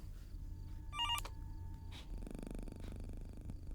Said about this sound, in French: le téléphone sonne alors qu'il est censé être débranché